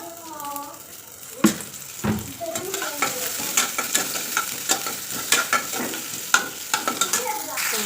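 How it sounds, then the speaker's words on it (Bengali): Two small sun-dried lentil dumplings (bori) fry in a little oil, giving a steady close sizzle broken by scraping stirs and clinks of a spoon against the pan, with faint voice in the background. "বড়ি দুইটা ভেজে নেব"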